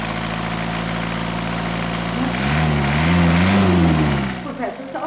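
An engine, thought to be a tractor, gives a steady low rumble that swells louder near the middle and then fades, with a voice briefly heard over it.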